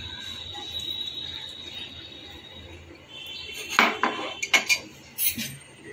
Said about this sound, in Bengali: চিনিটা যতক্ষণ না গলে যায় ততক্ষণ আমি ভালো করে ঘাটবো।